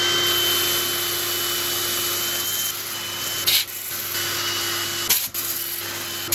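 Steady broadband whir of a dust extractor running throughout while a hard, dense oak burl is sanded, with a couple of brief dips and bumps in the noise; no voices.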